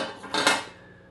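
A single brief metallic clink and scrape while wire is cut out of a Thanksgiving cactus pot during repotting, close and fairly clear, fading quickly.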